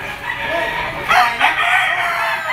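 Yellow-legged bull stag rooster crowing loudly and close, a single drawn-out cock-a-doodle-doo over a faint background hum.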